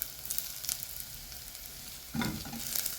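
Onions fry with a steady close sizzle in a pan in a home kitchen, and a louder burst of stirring and scraping near the end.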